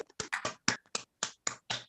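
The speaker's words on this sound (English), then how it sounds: "Let's have a round of applause in the Zoom room for our next act for Jimmy Longyear" Sparse, uneven hand claps from a small group joining a Zoom room call over their microphones, about eight sharp claps spread across two seconds, fairly quiet and not in unison.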